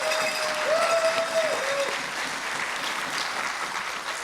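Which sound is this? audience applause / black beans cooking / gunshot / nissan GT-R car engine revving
audience applause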